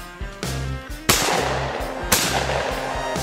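Shotgun blasts at a sporting clays range: two sharp, loud reports close by, roughly a second apart, each with a brief broadband crack and a short decay, over steady outdoor background.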